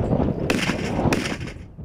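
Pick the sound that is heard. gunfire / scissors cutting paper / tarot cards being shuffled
gunfire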